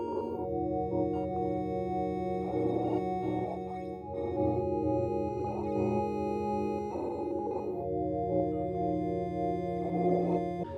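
An ambient synth sample run through a spectral delay with the time and frequency settings automated, giving sustained layered tones that smear and shift with wavering, echoing movement across the whole passage.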